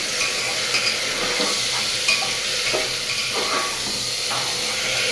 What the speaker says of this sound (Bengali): এখন ডালটাকে আমি এইভাবে নেড়ে করে একটু হালকা ভেজে নেব